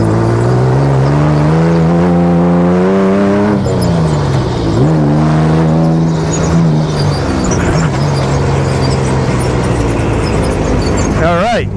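A Subaru Baja driven hard around a track, its engine loud and close as revs climb and drop through gear changes with sustained whirring; a voice occasionally speaks over the engine noise.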